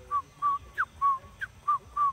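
A person whistles an imitation of a toucan call, a series of about seven short, clear whistled notes in a steady rhythm, some with quick upward or downward slides, close and distinct over a faint low background.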